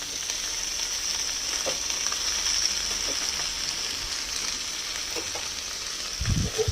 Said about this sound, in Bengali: একটুখানি নেড়ে দিই নয়তো নিচে যে রসুন থাকবে সেটা কিন্তু পুড়ে যাবে